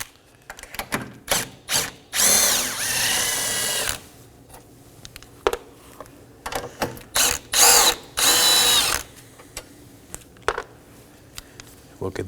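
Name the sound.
power tool removing 10mm nuts and bolt from bracket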